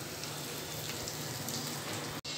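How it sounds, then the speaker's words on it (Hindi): Hot tempering poured onto potatoes sizzles and crackles in a dense, steady hiss, loud and close, with a brief break just before the end. "और ये तड़का हम लोग आलू में अपने डाल देंगे।"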